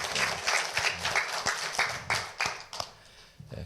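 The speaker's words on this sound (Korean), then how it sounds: "같이 한번 큰 박수로 하나님의 영광을 돌립니다." A church congregation at a Sunday morning service applauds with a rhythmic, fairly even run of claps that fades out near the end, a few final claps lingering as the room quiets.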